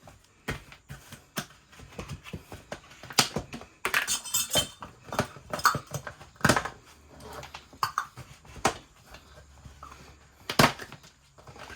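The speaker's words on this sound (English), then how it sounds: "Now it's time to add in our oatmeal, our pecans, and our cherries." Oatmeal, pecans and cherries going into a mixing bowl for cookies, with irregular close clinks, taps and scrapes of spoon and cup against the bowl, some louder knocks, and quiet pauses in between.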